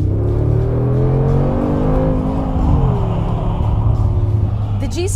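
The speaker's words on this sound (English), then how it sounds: "This one offers a 4-liter V8 bi-turbo engine, offering 585 horsepower, which sounds great even from inside the car." From inside the cabin of a Mercedes G63, the 4-liter bi-turbo V8 of 585 horsepower drones with a deep, steady rumble, its pitch rising and falling as it revs, loud and close throughout.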